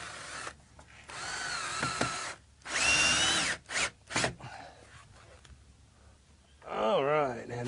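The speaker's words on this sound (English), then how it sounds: "All right, and more screwing." A power drill drives screws into a stair railing during deck finishing, whirring in several bursts of a few seconds each, close and fairly loud, with a person talking between the bursts.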